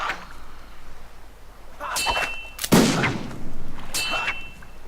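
Gunfire in a pirate video game with a fencing match against two opponents, a few sharp, loud shots spaced over several seconds, one heavier blast in the middle, over faint background game sound.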